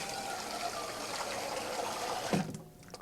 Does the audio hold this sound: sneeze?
no